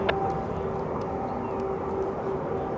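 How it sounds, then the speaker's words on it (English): MiG jet fighters climbing at an airshow give off a steady, distant jet roar, a broad, even rumble with a faint whine held throughout. "So we'll talk more about those MiGs later as they climb up to the perch."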